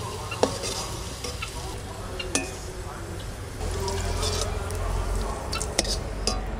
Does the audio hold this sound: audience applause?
no